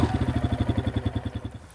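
A motorcycle engine chugs with a rapid, regular pulsing beat, revving briefly before fading off as if pulling away.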